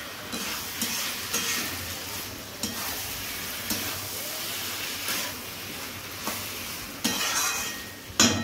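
Chicken sautéing in spices in a pan sizzles steadily while a spatula scrapes and stirs at irregular intervals, with occasional louder clanks against the metal.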